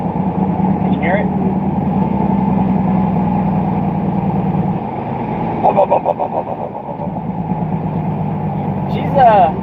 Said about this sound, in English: Let's do the engine brake.